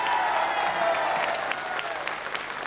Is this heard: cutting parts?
no